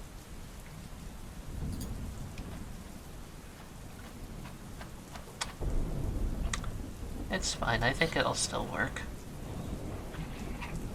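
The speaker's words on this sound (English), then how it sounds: "Did the rain just stop?" Steady rain falls as a continuous wash of noise with scattered drop sounds, heard behind two people chatting, with a faint rumble and brief lighter clatter in the second half.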